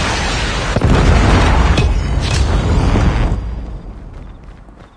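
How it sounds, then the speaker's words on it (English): A Predator missile strike in the mobile shooter Call of Duty Mobile lands as a loud, sustained explosive boom with a rumbling blast that dies away over the last seconds. "Friendly Predator missile inbound."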